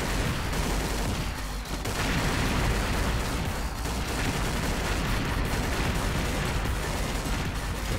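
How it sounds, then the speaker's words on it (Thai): Dense, continuous gunfire and explosions from the game XSHOT form an unbroken, loud wall of shooting and booms with no pauses. "เรายิงไว้อย่างนี้ครับยิงให้มันระเบิด"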